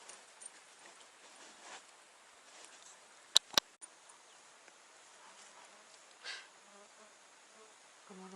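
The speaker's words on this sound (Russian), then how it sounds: "Комаров стало больше, да?" Faint insect buzzing drifts around a boat on a wild river, quiet and intermittent, broken by a couple of sharp clicks midway.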